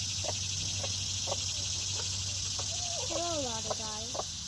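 A broody hen gives soft, spaced clucks beside her newly hatched chick, which adds a few rising high peeps near the end, all faint over a steady background hum.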